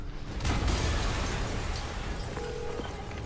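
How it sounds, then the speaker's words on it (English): A deep, rumbling explosion in the Spider-Man PS4 video game booms early and then trails into a long, noisy roar of debris and ambience. "an explosion just... I saw it."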